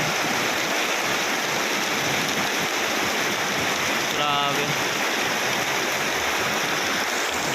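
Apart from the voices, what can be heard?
heavy rain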